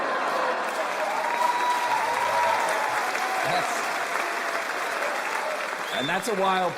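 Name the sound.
comedy audience cheering and applauding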